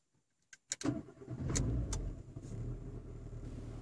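A car engine cranks with a few sharp clicks and turns over, then settles into a steady low idle, close and fairly quiet.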